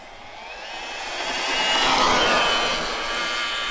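Arrma Infraction RC car screaming past on a fast speed run, a high electric whine swelling as it approaches, peaking at mid-pass, then holding steady with broadband wind and tire hiss; no voices.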